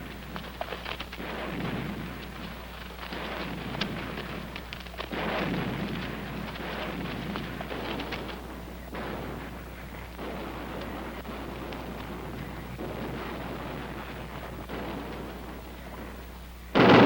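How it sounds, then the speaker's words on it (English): The battleship USS Missouri fires its guns in the Korean War, heard as deep, distant rolling booms that rumble one after another over a long stretch, heavy and far off with no voices. "far enough back to hear the thunder of the mighty Mo"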